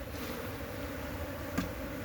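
Africanized honey bees hum in a steady, close buzzing swarm around a hive box, a continuous drone with one brief knock partway through.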